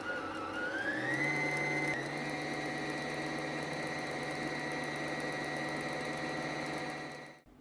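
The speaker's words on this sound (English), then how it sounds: "Continue winding the bobbin." Sewing machine winding thread onto a bobbin, a steady high motor whine that rises in pitch over the first two seconds, then holds even and close before stopping abruptly near the end.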